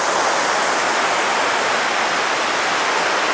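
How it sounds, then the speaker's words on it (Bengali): Forceful rushing water of a mountain river near the India–Nepal border crossing on the Adi Kailash route, a loud, steady broadband roar that fills the whole clip without a break. "শুধু সাউন্ডটা শোনো, জলের সাউন্ডটা মানে কি দারুণ লাগছে, আর কি ফোর্সে জল যাচ্ছে দেখো শুধু"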